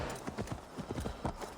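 Horse hooves clip-clop in Assassin's Creed Valhalla, a quick, close, rhythmic run of hoof strikes at a steady gallop-like pace, loud and continuous.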